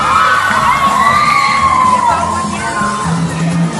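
An audience at a live Alberta history quiz show cheers and shouts loudly, a crowd of excited voices with whoops and yells rising together, close and sustained.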